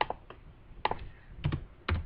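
Bursts of keystrokes on a computer keyboard, close and clear, coming in short irregular clusters with brief pauses between them, no voices.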